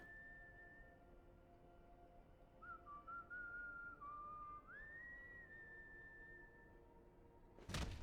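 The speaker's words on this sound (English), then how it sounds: "Oh my god, the whistling." Whistled melody from a character in Final Fantasy XIV, a clear wavering tune that rises and holds at a steady pitch over a quiet game ambience, ending in a brief loud thump.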